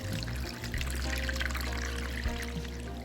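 Water pours steadily into a seed starting tray being prepared for Kratky hydroponics, a continuous close splashing trickle with no talking.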